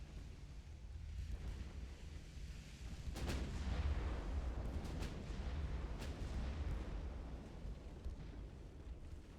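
Heavy naval guns boom during a battleship engagement in Ultimate Admiral: Dreadnoughts, a low rolling rumble with distant salvos swelling partway through and again later, no voices.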